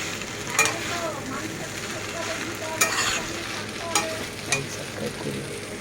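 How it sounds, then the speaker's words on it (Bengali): Pasta stirred in a sizzling pan, a steady frying hiss punctuated by four or five distinct spatula scrapes and knocks, close and clear with no voices. "তো আমি এবার পাস্তাটাকে ভালো করে নাড়িয়ে নিই"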